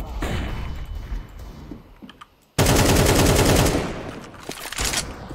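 Automatic rifle fire in Counter-Strike 2 crackles in a close burst, pauses briefly, then resumes as a loud, dense sustained volley that tapers off and flares again near the end.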